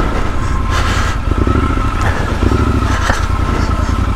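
Triumph Scrambler 1200 XE motorcycle riding slowly off-road along a narrow track, a loud steady engine drone with slight rises in revs, close throughout, with a voice briefly underneath.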